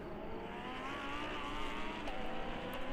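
Lamborghini race cars racing at the Red Bull Ring during an endurance event, a continuous roaring engine drone with rising and shifting pitch as cars accelerate past, fairly distant and sustained with no speech.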